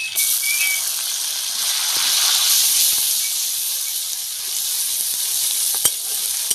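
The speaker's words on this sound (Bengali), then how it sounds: "পেঁয়াজটাকেও ভালোভাবে একটু ভেজে নেব" Onions frying in a pan of hot oil, a loud, steady bright sizzle that swells and eases, with a few faint utensil taps, no voices.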